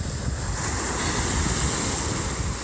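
Ocean surf rolls onto the beach at Westhampton Dunes on Long Island, a steady, loud, close wash of breaking waves mixed with gusty wind buffeting the microphone, with no voices.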